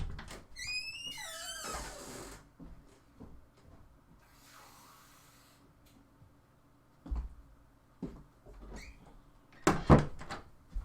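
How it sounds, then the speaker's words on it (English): An indoor door creaks open with a sharp rising squeak and later thuds shut, with faint shuffling and handling noises in between, fairly quiet overall. "Apologies for the squeaky door."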